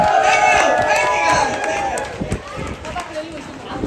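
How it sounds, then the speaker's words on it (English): A crowd at an alligator wrestling show at Gatorland in Orlando claps and cheers, with shouts and voices mixed in over a loud, busy burst that gradually thins out. "keep that round of applause for our new regular James!"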